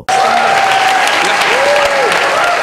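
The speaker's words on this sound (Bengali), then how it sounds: "তার বক্তব্যের সময় বারবার হাততালি দিতে থাকে উপস্থিত শ্রোতাবৃন্দ" Sustained applause from an audience at a speech by Dr Yunus, dense and loud from start to end, with a faint tonal whistle-like sound gliding over the clapping.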